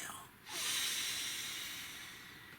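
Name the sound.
deep breathing during a healing mantra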